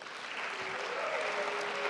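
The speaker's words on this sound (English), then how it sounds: "Let's give yourselves a round of applause." An audience at a college convocation applauds, a dense, even wash of clapping that holds steady for a couple of seconds.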